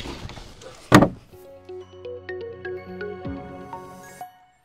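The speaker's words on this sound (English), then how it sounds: "check out the coolest part, the trap door." A wooden treehouse trap door opens with a sharp thud, followed by a long creaking, squeaking hinge sound that wavers in pitch for several seconds before stopping, close and fairly loud.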